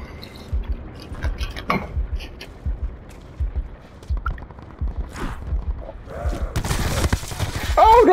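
Gunfire from Call of Duty: Black Ops 4 in a zombie battle-royale match: scattered shots and bursts crackle through the clip and thicken into a dense, loud volley near the end.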